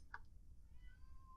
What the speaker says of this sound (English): If you hear a weird yowling in the background, it's one of my cats